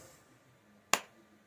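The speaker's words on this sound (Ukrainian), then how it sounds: "Я плескаю в долоні" One sharp, close hand clap rings out alone, a crisp single crack with a quick decay, set against quiet room tone.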